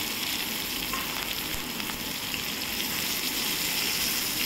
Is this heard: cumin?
yes